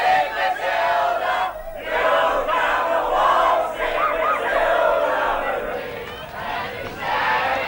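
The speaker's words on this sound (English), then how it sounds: "Then the crowd went wild and broke into a rousing rendition of Waltzing Matilda." Crowd at a 1983 yacht race raising a loud, sustained roar of cheering and shouting voices, swelling and dipping steadily throughout, with some singing mixed in.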